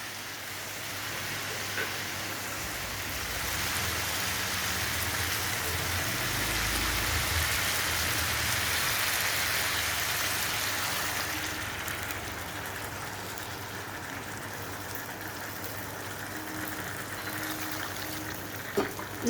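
Water goes into a jackfruit and liver curry cooking in refined oil, making a continuous soft, rain-like hiss and trickle that swells in the middle and then settles, close by with no talking.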